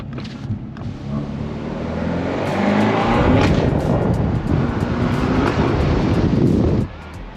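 A Peugeot 308 GTI engine with 270 horsepower revs and accelerates loudly, building to a sustained roar for several seconds before cutting off abruptly, with wind buffeting the microphone.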